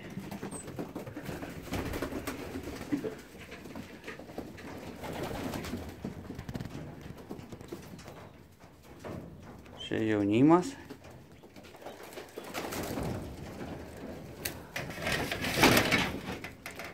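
Racing pigeons coo softly in a loft, with one clearer coo standing out amid rustling, and a person speaks briefly nearby.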